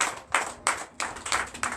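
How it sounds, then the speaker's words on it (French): Congregation at a Sunday worship service in a church in Comè, Benin clapping together in a loud, fairly regular rhythm of sharp claps, close and steady, with no talk over it. "Donnez l'acclamation à Jésus."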